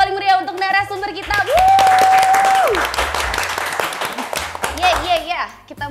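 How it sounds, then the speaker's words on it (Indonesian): An audience at a talk show applauds a guest, a dense burst of clapping that swells and then fades, with a host's voice over it and someone speaking as the cheering dies down. "Langsung saja berikan tepuk tangan yang paling meriah untuk narasumber kita"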